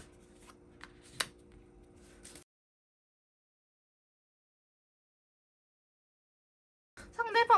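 Tarot cards are shuffled and drawn, making soft papery riffles and light taps up close. Silence follows, then a brief voice is heard at the end.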